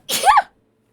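A single short, sharp human sneeze, close and loud, with a quick breathy burst that ends abruptly into silence.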